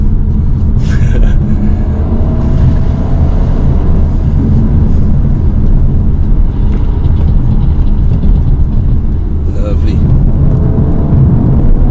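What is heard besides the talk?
2019 Audi A5 Sportback car driving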